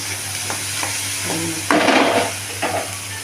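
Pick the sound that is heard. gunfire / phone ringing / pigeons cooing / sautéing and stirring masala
sautéing and stirring masala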